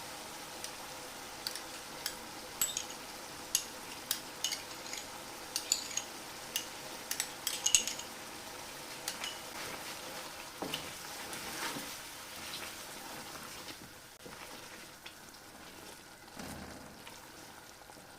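Yogurt goes into a frying black-pepper mutton karahi, and a spoon clinks sharply against the pan again and again over a faint sizzle, settling into quieter scraping stirs later.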